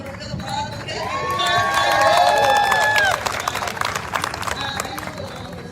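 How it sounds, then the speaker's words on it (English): A crowd at a term limits press conference and march cheers and claps for Dolores Huerta, with whoops and whistles rising over a steady clatter of hands for several seconds. "Let's give a big applause, okay?"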